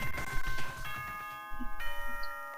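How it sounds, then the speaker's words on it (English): A bell chimes in the video game Danganronpa, signalling nighttime: clear sustained ringing tones with a bright, layered harmonic ring, a second chime entering partway through over soft game music. "Why is there a bell going?"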